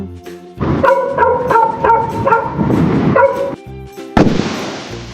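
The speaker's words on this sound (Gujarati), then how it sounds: "કૂતરો" A dog barks in a rapid series of sharp yips, loud and close, followed by a brief pause and a different burst of noise.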